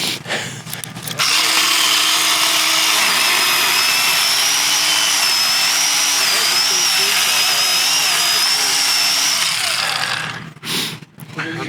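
A small chainsaw motor buzzes at a high, steady pitch for several seconds, wavering slightly as it runs, then cuts off with a few clunks.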